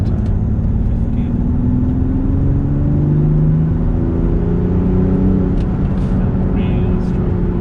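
A remapped tri-turbo BMW X5 M50d xDrive engine drones loudly and continuously, its pitch gliding and shifting as the revs change, with a deep rumble throughout.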